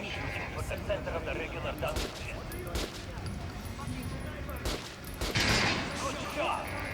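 Rapid bursts of automatic fire from an RPK machine gun in the video game Metro: Last Light Redux, crackling over a steady game soundscape with a louder burst near the end, while someone talks over the action.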